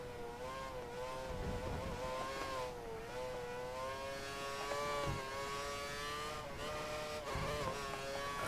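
A Formula One car from the F1 2013 racing game, its engine held near full throttle on the Korea circuit, a loud, steady high-pitched whine with slight dips where the revs ease around corners.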